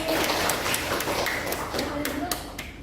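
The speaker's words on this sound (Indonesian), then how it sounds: "Kasih aplaus dulu buat Afif." A classroom applauding a student, scattered hand claps and taps from many people in a room, moderately loud and fading toward the end, with some voices mixed in.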